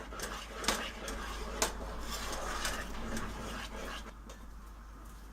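A spoon stirs salted caramel sauce in a pan, making faint scraping and occasional light clinks over a steady low background hum. No talking.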